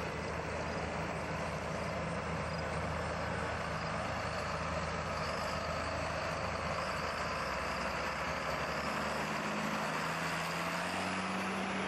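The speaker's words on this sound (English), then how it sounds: "Here comes the tractor." A low, rumbling diesel engine drones steadily, slowly swelling as it draws nearer, with a constant broad mechanical roar and no voices.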